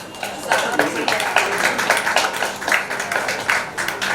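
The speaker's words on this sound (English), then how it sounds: "Can we please get a round of applause?" Audience applause at a book launch event, a steady wash of clapping hands from a crowd that holds for several seconds at an even level.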